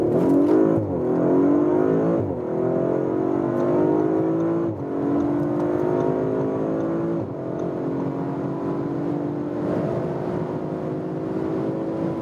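An Audi RS 5 accelerating hard from 35 km/h, its engine climbing loudly through several gears with short dips at each shift, then a sustained high-speed drone from inside the car.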